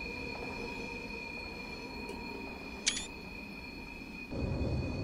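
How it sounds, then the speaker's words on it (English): Train in a simulator game rolling along a curve on the line to Lymington Pier, a steady rumble with tonal hums, a brief high wheel squeal in the middle and a louder rush of running noise near the end. "The train going around there."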